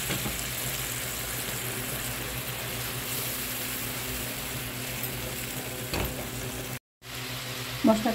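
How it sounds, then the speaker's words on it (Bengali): Spice paste for a rui fish bhuna curry sautéing in a pan with a splash of hot boiled water, giving a steady close sizzle and hiss throughout, with a brief drop-out near the end and a small clatter. "এখন এখানে দিয়ে দেবো সামান্য একটু পানি, ফুটানো গরম পানি। মশলাটা ভালোভাবে কষিয়ে নিই।"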